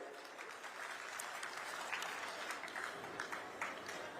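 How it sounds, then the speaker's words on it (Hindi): Sustained applause from a crowd, a steady dense patter of clapping that stays even for the whole stretch with no voices on top. "एक बार आप ताली बजा भाई"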